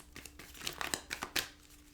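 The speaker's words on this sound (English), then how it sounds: "Last shuffle." A quick run of crisp riffling and flicking of tarot cards shuffled close by, a few sharp bursts over about two seconds, fairly quiet, no talking.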